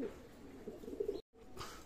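A soft, low coo from a Teddy pigeon repeats faintly, close but quiet, with a short gap of silence near the end.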